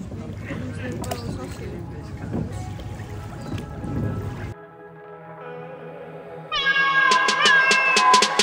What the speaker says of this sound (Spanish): y los gatitos también quieren comer